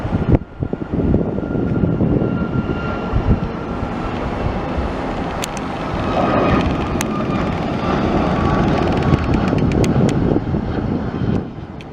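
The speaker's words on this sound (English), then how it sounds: "Now departing on 27 right, MD-95 Boeing 717 to Detroit." Boeing 717 (MD-95) jet on takeoff roll from runway 27 right at RDU, bound for Detroit: a loud broad engine roar that swells and holds steady throughout, with no speech.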